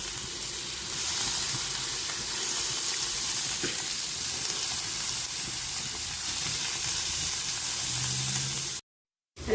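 Mushrooms and onion fry in a pan with a steady, close sizzle and hiss that keeps going until the sound cuts out near the end.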